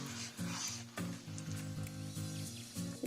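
Black cardamom and two dry red chillies roast in a hot pan, giving a quiet, steady sizzle with light stirring scrapes, under a faint tonal background.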